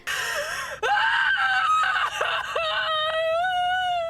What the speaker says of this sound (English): When she starts screaming in the car